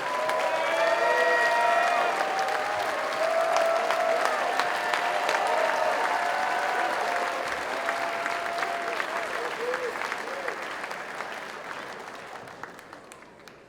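An opening-ceremony crowd at a FIRST robotics competition in Mount Vernon applauds Dean's List students, a steady wash of clapping with voices and cheers riding on top, sustained for many seconds before slowly thinning and fading.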